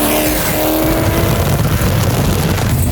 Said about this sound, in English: If you could keep the exhaust how it sounds, I would keep it. It sounds nuts.